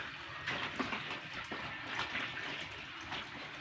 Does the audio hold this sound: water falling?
yes